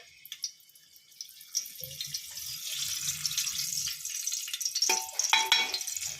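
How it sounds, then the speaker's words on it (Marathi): Onion dropped into oil in a pan that is not fully hot, a soft hiss that slowly builds into a sizzle, with a few light clicks and a brief low hum near the middle. "हा कांदा आवाज कसा येते हे बघण्यासाठी मी यात कांदा टाकलाय"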